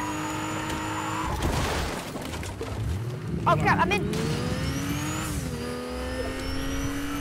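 Car driving in Fortnite, its engine droning and revving steadily with a tire squeal partway through, loud and continuous while a player talks over it.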